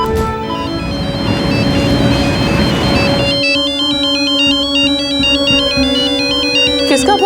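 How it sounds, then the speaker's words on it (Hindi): A phone ringtone plays loud and close as a repeating melodic electronic tune that holds steady over a sustained tone, following a noisy dramatic stretch at the start. "किसका फोन है जी?"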